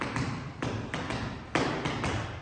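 Feet tapping out a swung triple step in an Uptown Swing dance class, a run of soft, close taps and thuds landing in an uneven, lilting rhythm with a few stronger accents.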